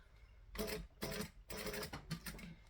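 A sewing machine stitches a bag seam in three short bursts separated by brief pauses, fairly close and alone.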